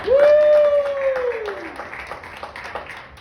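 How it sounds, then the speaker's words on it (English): Audience applause for a comedian at a comedy show, a rising cheer over scattered clapping that thins out over a few seconds. "please give a big round of applause for Billy Orme."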